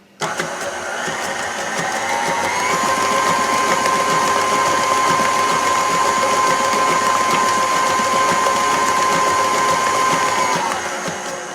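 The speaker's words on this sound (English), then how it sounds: "let's just beat that a little more" An electric hand mixer beats thick brownie batter made from scratch, with a motor that whirs up sharply and then holds a loud, steady tonal hum with a slight pitch rise before it cuts off near the end.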